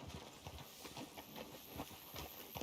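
A horse's hooves clip-clop at a steady trotting rhythm in Red Dead Redemption 2 on PC, fairly soft and close, with no other sound competing.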